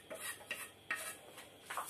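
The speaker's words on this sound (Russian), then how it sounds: "лук я пожарила, закладываю в кастрюльку" Fried onion being spooned into an aluminium pot gives a few light clinks and scrapes of utensil on metal, with soft rustling between, close and fairly quiet.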